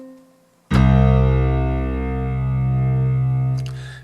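A layered piano voice on a Casio WK7600 76-note keyboard, blending a mellow, sustained piano with a brighter piano: a single strong attack that rings on for about three seconds before fading, played alone.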